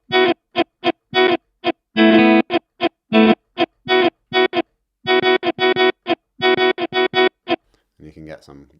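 Chopped vocal samples processed with effects in Logic Pro X's Quick Sampler fire in rapid, rhythmic bursts of clipped syllables with sharp stops. A warbling, distorted tail closes out the sequence.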